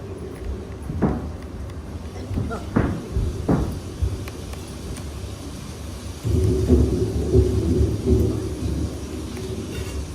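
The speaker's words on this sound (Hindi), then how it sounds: "बहुत तेज बारिश हो रही है ना? बहुत तेज बारिश हुई है।" Heavy rain pours steadily while deep thunder rumbles several times in the distance, the downpour swelling louder toward the end.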